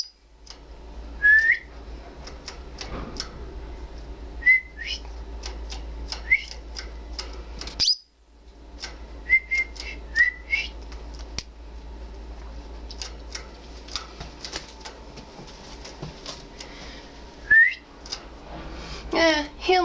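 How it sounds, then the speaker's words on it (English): Male Orange Factor canary singing indoors, with scattered bright chirps and short whistled phrases coming in bursts over a low steady hum, up close and fairly loud. "He is a male Orange Factor Canary, so he sings usually in the morning."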